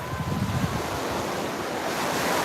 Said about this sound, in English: Little baby waves here.